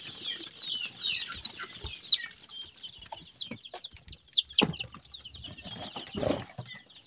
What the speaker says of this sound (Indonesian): Ini ayam sehat-sehat kan?